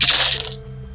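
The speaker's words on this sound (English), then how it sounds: "That sound is the sound of receiving cash." A brief bright metallic jingle, like coins, rings out as cash is looted in the EverQuest video game, then quickly fades over a low background hum.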